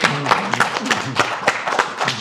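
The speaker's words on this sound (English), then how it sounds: "Everyone remain seated and give your applause" Seated audience at a talk on mercenaries in Sierra Leone and Iraq applauds, close, loud irregular handclaps, a few people clapping in an uneven rhythm, with brief voices beneath.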